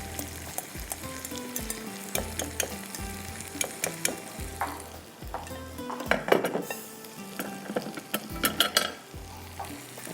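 Six beaten eggs sizzling steadily in a hot pan for a cabbage and egg ghotala, with a spoon repeatedly scraping and clinking against the metal over the continuous frying hiss.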